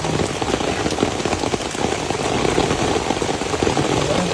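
Heavy rain pours onto a creek in a dense, loud, steady hiss with a low rumble beneath, no voices.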